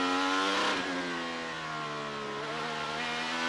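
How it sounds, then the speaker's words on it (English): Honda-powered IndyCar accelerating hard out of turn 6 during qualifying for the Honda Indy 200 at Mid-Ohio, a loud sustained high-revving engine whine rising steadily in pitch, close and continuous with no speech. "Nice early throttle application out of turn 6 for Kirkwood."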